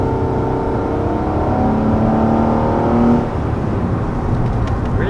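A 2019 Nissan Maxima with a CVT accelerates hard from inside the cabin, a loud steady engine drone with rising tones that swells, then eases off near the end with no talk over it.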